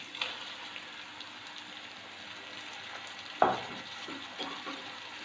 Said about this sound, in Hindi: अभी इस स्टेज में हम दाल डालेंगे इसमें।